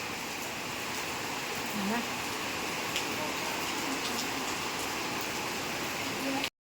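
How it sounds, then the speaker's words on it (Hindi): Heavy rain pours steadily as a dense, continuous hiss throughout, with a voice speaking briefly over it. "बहुत तेज़ बारिश आ रही है दोस्तों"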